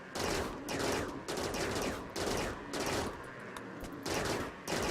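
Gunfire in the video game Rimworld, a dense rattling barrage of repeated shots in several bursts with short gaps, fairly loud throughout.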